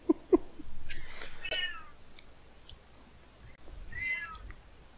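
A cat meows twice, close and fairly loud, the calls rising and falling over a low room hum after a couple of sharp knocks at the start.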